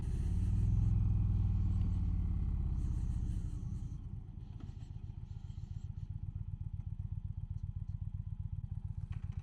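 An Indian Challenger motorcycle rides along the Blue Ridge Parkway. A heavy rushing rumble fades into a close, steady, pulsing engine throb, with no voices.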